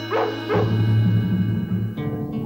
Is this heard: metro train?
no